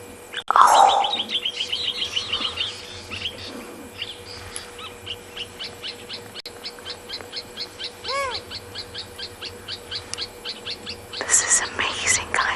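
Owls call at sunset on a safari in the Tswalu reserve, a series of soft repeated hoots and chirping calls at a moderate distance, with quiet whispering voices and other bird sounds around them.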